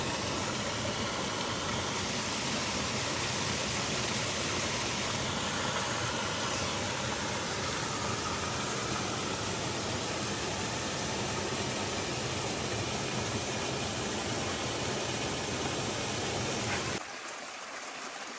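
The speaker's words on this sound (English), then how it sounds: "This one is Gunter Fork Falls." Gunter Fork Falls, a low-flow waterfall cascade in the Great Smoky Mountains, gives a loud, steady rushing roar of falling water close by that continues unbroken before dropping off sharply near the end.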